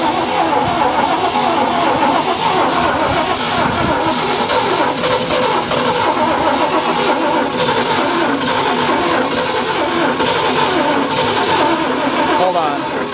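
A 1975 International 1800 truck, unstarted for 24 years and with a stuck carburetor float pumping gas out the top, cranks and runs: a loud, continuous mid-pitched engine clatter with people talking over it.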